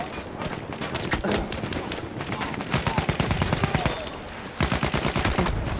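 In Battlefield 1 multiplayer combat, machine-gun fire rattles in fast repeated bursts, close and loud, with short pauses between volleys and faint talk mixed in.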